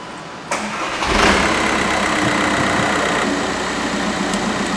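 A car engine cranks over and catches, then settles into a steady idle, close and loud with no one talking, in a clutch check where the clutch is being judged for wear.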